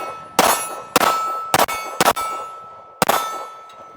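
A PX-9 Carry 9mm pistol fired at an outdoor range: five sharp, loud reports, with the third and fourth close together, each ringing with a metallic clang and a short tail. No one speaks.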